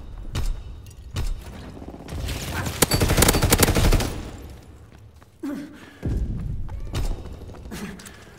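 Explosions and gunfire in the Call of Duty WWII video game: scattered sharp shots and thuds, a dense loud burst of fire and blasts in the middle, then more booming impacts and shots, with no talk.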